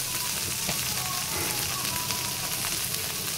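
Spiced food frying in a pan, seasoned with coriander powder, cumin powder, lemon juice and salt. A soft, continuous sizzle and hiss runs throughout with no talking.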